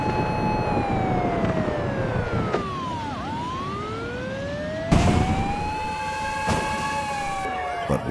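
A wailing air-raid siren rises and falls continuously during wartime, loud and fairly near, with a second siren tone overlapping and a few brief knocks.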